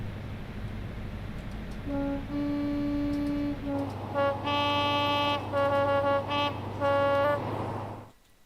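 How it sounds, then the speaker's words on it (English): HST train horn in Train Sim World 2024, a series of loud sustained two-tone blasts, first longer notes then shorter repeated toots, over a steady engine drone that drops away at the end. "it's an interesting sounding horn, isn't it, Sam?"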